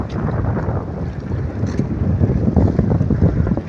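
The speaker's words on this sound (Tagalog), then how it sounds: "May motor din naman yan." Motorized outrigger bangka engine at sea, a loud continuous low rumble blended with heavy wind buffeting and water noise, steady throughout with no talking.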